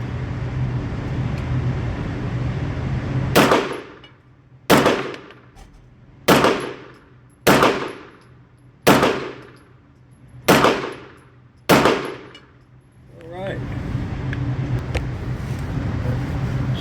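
Last six rounds from a Bul Armory SAS2 Tactical Govt 9mm pistol with a 5-inch barrel: loud, sharp gunshots at a steady pace of roughly one every second and a half, each decaying quickly over outdoor background noise.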